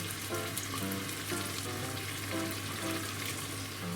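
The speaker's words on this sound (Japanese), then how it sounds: "入れてちょっと炒め合わして、春雨にねこの水分吸わしつつ火を通していきます" Pork, kimchi and glass noodles stir-fry in a pan after sake is added. A quiet, steady sizzle runs throughout over a low electrical hum, with soft scraping from stirring.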